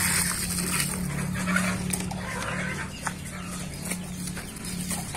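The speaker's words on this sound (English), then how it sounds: "All the chickens in this coop are domestic chickens." Domestic chickens in a coop cluck and call softly in scattered bursts over a low, steady background hum, fairly quiet and close.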